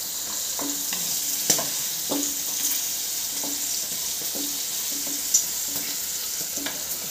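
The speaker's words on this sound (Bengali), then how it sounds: "আরে বাবা, মটরগুলো ফুটছে" Peas cook in a pan with a little salt, giving a constant soft sizzle and hiss broken by repeated light clinks and scrapes of a spoon stirring, close and alone without talk.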